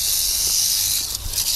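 Loud, sustained hiss from a rattlesnake indoors in a house, a harsh close-up steady hiss lasting the whole moment with no speech.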